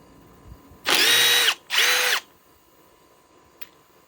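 A power drill drives small fasteners into an old tree stump in two loud, close bursts of whining motor, each lasting under a second, separated by a short pause, then a faint click follows in quiet surroundings.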